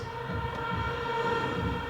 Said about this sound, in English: I like to use reverse synths with a lot of reverb to help transition from part to part